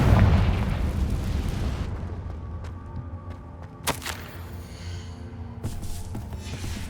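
In Hogwarts Legacy, a Confringo spell blasts with a loud booming explosion that rumbles and fades, followed by sharp bursts and pops of further spell impacts against a quieter game background.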